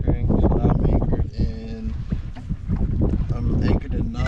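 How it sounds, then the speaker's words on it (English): Strong wind buffets the microphone on a reservoir while anchored in a small fishing boat, with a loud continuous rumbling roar and gusts rising and falling, and someone talking partly beneath it. "It's very windy out here today"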